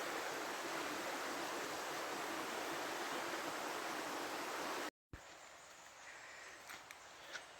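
A rainforest river flows steadily beneath tall palm trees, a dense continuous rush that cuts off abruptly, giving way to a quieter stretch of faint ambient water and scattered bird chirps.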